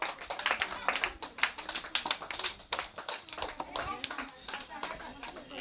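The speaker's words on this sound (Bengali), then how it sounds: "একটা হাততালি হবে সবারই" Applause from the audience at an outdoor balloon-blowing and pyramid-stacking competition, a dense patter of claps that runs throughout, mixed with crowd voices and children talking.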